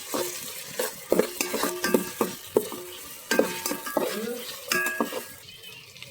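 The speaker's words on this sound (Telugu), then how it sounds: "ఇప్పుడు ఇవి అల్లం వెల్లుల్లి పేస్ట్ వేసుకుందాం. బాగా ఫ్రై చేసుకోవాలి." Ginger garlic paste fries for veg pulao in a pan, with a steady sizzle under repeated metal spoon scrapes and clinks against the pot, close and busy throughout.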